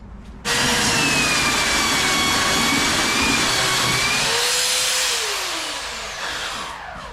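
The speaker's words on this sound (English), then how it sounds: "I just want to show you guys how good the 40 grit sandpaper is." A powered sander with 40 grit sandpaper strips old paint off kiln-dried hardwood, a loud, continuous abrasive roar with a whining motor tone that starts abruptly and eases slightly toward the end.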